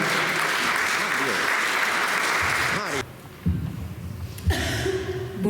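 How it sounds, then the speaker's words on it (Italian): An audience at an event against war and violence toward women applauds for Annalisa, a dense burst of clapping that breaks off at about the three-second mark, after which low voices and shuffling follow. "Un applauso a Annalisa."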